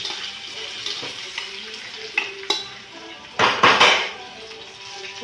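Chilies and potatoes fry in a pan for sabudana khichdi, with soft sizzling under stirring scrapes and a few sharp clinks of utensil against pan, louder rattling bursts near the end.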